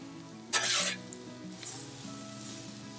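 Onions halfway cooked and starting to brown, sizzling on a grill, a low steady sizzle with a brief louder burst of hissing early on and a softer one after, steady hum underneath.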